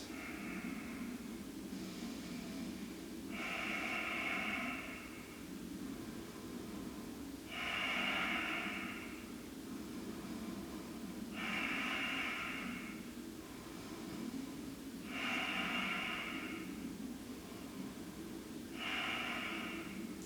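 Slow, deep breaths during a standing yoga pose repeat in an even rhythm, about six airy inhale-exhale cycles, close and soft over a steady low background hum.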